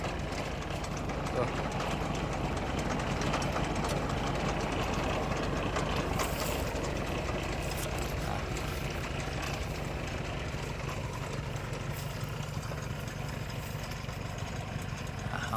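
A vehicle engine runs steadily, put in gear to drive a well pump at a water drilling site, a continuous mid-range rumble with a knocking texture beneath someone talking throughout.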